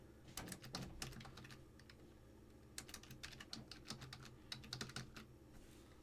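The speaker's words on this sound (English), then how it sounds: "I'm typing." Quiet typing on a computer keyboard with bursts of quick key clicks, pauses between them, then steady runs of strokes, heard close and alone.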